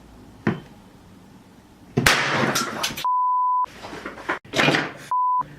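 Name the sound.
test tone played from phone through amplifier and speaker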